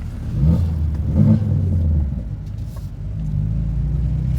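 A BMW G80 M3 in Imola Red with an equal length mid-pipe exhaust rumbles deeply while driving, a loud low drone that swells as the engine pulls, then settles into a steady cruise.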